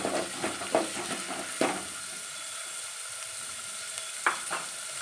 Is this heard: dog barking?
no